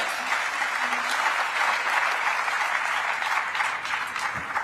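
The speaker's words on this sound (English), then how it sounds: "And you hear the round of applause" A large audience applauds at the COP28 climate summit in 2023, a dense, steady wash of clapping that holds at an even level throughout, with no voices over it.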